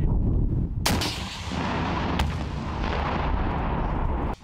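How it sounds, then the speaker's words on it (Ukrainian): Two sharp, heavy grenade launcher blasts ring out close by during military firing practice, each followed by a rumbling echo that lingers between shots. "Військові тренуються в стрільбі із гранатометів."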